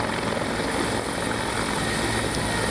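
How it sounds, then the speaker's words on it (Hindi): A helicopter carrying Yogi Adityanath comes in to land in Jhansi, giving a loud, steady rotor and engine roar with continuous thumping blade pulses and no voices. "ये आप योगी आदित्यनाथ के हेलीकॉप्टर उतरने की तस्वीरें झांसी में आप देख रहे हैं।"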